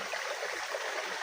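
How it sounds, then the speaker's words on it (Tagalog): Water flows steadily in a quiet outdoor spot, a soft, continuous rushing and gurgling with no other sounds. "tahimik po yung mga kaibigan maliban sa tunog ng tubig"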